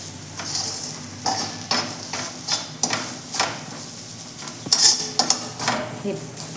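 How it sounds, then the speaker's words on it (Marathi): A spoon stirs chilli, cumin, coriander, turmeric and mango powder into hot oil for samosas, giving a soft sizzle with scattered light scrapes and clinks against the pan. "हे मसाले पण असे छान आपण तेलावरती मिक्स करायचे आहेत"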